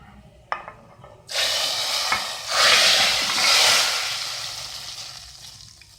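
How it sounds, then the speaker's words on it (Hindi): A sudden loud sizzle as hot oil with fried garlic is poured into cooked lentils, hissing strongly then slowly fading, preceded by a couple of light clinks. "अब हम इसको दाल में डालते हैं।"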